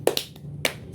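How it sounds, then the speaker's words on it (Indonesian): Children do a short rhythmic spirit clap in a classroom session: three crisp, close hand claps in quick succession, then a brief pause with a faint fourth. "Sekarang tepuk semangat."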